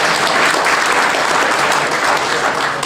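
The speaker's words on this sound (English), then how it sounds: "I think that needs a refreshing round of applause" A crowd claps steadily, a dense burst of applause that holds at full strength throughout.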